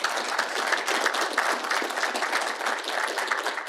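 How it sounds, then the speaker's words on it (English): An audience applauds at a TRANSCOM show, a dense, steady wash of many hands clapping continuously and fairly loud throughout, with no talking over it. "Let's have a round of applause for General Lyman."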